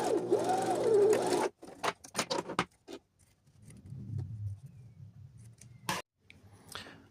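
A sewing machine stitches a trouser seam in a short close burst of rapid mechanical whirring, followed by scattered clicks, fabric handling and a low rumble in a quiet room.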